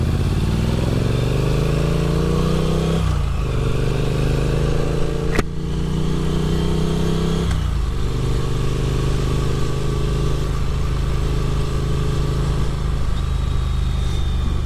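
A Triumph Street Twin motorcycle on an evening ride, its engine droning loud and steady up close with gear shifts changing the pitch, wind rushing throughout.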